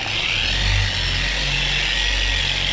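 Rotary polisher spinning at 3000 RPM with buffing compound on black automotive paint, a steady close motor whine with a slight swell partway through, no voices.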